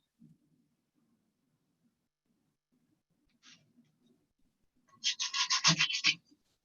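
A short burst of dry rubbing and scraping, like hand sanding, after a near-silent stretch with faint murmurs.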